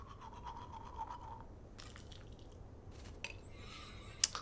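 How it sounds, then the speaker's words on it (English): Brushing teeth with a toothbrush in the video game Life is Strange: quiet, soft scrubbing strokes over a low background hum, with a few small wet clicks. "Brush teeth."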